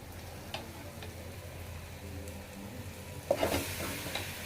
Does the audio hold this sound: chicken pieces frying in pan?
yes